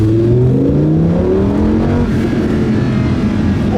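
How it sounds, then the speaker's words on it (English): A Lamborghini Huracán LP610-4's naturally aspirated engine revs loudly and steadily on a street in Stockholm, its pitch climbing and shifting under acceleration, heard close from inside the car with no talking. "it's like no turbo win or anything, it's just pure engine sound."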